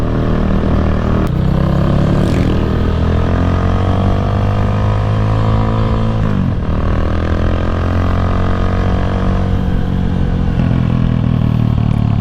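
A classic 250 motorcycle engine, its carburetor freshly tuned, idles and revs up and down close by, with a steady mechanical clatter and rising and falling throttle pitch, running smoothly without popping and with no talking.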